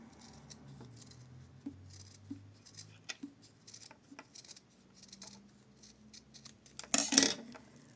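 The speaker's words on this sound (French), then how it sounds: "on va venir placer notre pièce gabarit au milieu du carré de feutrine et on va venir découper les deux ensemble" Scissors cut through a felt square and a paper template together, giving a run of soft, quiet snips followed by a louder metallic clatter near the end.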